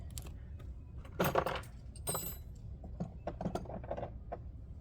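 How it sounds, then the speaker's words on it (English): Metallic clinks and rattles of a socket adapter being fitted onto a wrench while working on a 2011 Mini Cooper S fuel injection and high-pressure pump, close and busy with continuous jangling, no talk. "So we're gonna grab an adapter here, put it on our other wrench"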